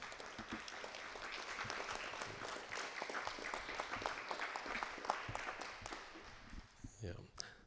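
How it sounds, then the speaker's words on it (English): An audience at an energy symposium applauds a young presenter's project with sustained clapping and a few whoops, moderately distant, and voices rise over the applause as it tails off near the end. "Give them a big round of applause."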